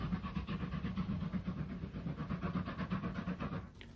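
A Wainwright C-Class 0-6-0 steam locomotive heading a goods train, a dense rhythmic chuffing and wheel clatter that runs steadily and fairly loud, then cuts off abruptly near the end.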